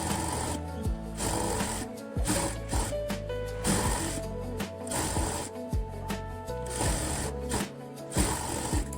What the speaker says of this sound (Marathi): सगळ्यात अगोदर एक शिलाई आपण अशी किनारी मारून घेऊया,